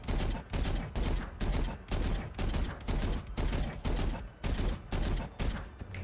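Rapid gunfire in Valorant, short bursts of shots repeating in a steady rhythm about twice a second, close and loud, with no talk.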